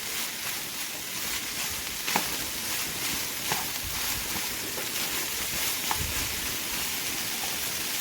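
Carrots and peppers sizzle steadily in a hot pan while cooking down for a pasta bolognaise, a continuous soft crackle with occasional small pops, close and moderately quiet, no talking.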